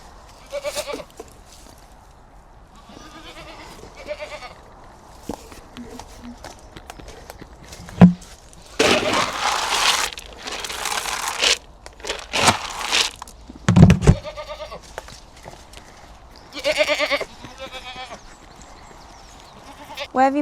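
Goats on a farm let out a few bleats among clattering hooves and other farmyard noise, with a person talking nearby at times.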